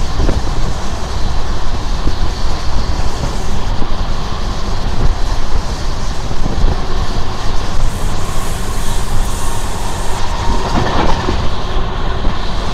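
A passenger train pulls out of Krishnanagar City Junction, loud continuous wheel rumble and rhythmic clickety-clack heard from on board, with brief wheel squeal, no voices.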